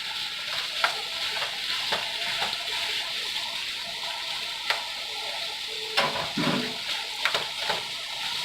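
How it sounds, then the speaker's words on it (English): One pound of ground beef fries in vegetable oil in a pan with a steady close sizzle, broken by a few stirring scrapes and clatters toward the end. "Adding vegetable oil to my pan. Then my 1-pound ground beef."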